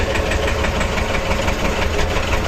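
A tractor engine runs steadily up close while the machine drives forward and then back, a continuous low mechanical rumble with a constant hum and no voices.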